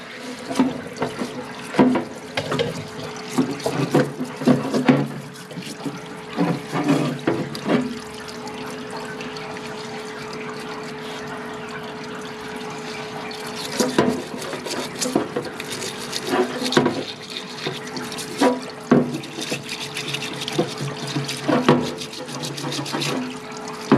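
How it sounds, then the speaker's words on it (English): A workshop parts washer runs as a lawnmower carburetor from a Yard Machines mower is cleaned, with splashing, trickling fluid and bursts of clatter and scrubbing over a steady pump hum, close and moderately loud, no talk. "I'm over here at the parts washer, and I'm gonna just clean this carburetor off"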